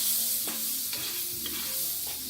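Butter sizzles steadily in a hot pan while steak cooks, a close, continuous crackling hiss broken by a few soft scrapes and stirs.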